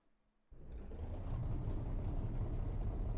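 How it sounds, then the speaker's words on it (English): Loud V8 race car engine in Assetto Corsa on the Riverside circuit, bursting in from near silence into a deep, rumbling roar that holds steady and strong to the end. "It's a V8."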